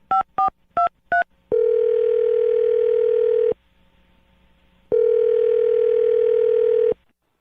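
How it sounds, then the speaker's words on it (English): A telephone line is dialed: four quick touch-tone beeps, followed by two long ringback tones separated by a quiet gap, clear and close with no voices. "I'm going to dial the phone number right now"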